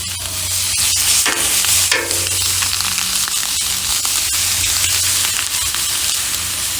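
Skirt steak sizzles on a Blackstone flat-top griddle, a steady, loud hiss with scattered crackles and a few faint clicks, continuing unbroken throughout.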